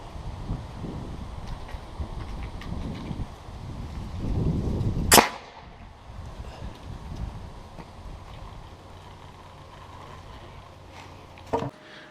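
An air cannon with a 2-inch barrel fires 100 feet of rope at 100 psi outdoors. One sharp, loud blast cuts through wind and rumble partway in, and a fainter second pop comes near the end.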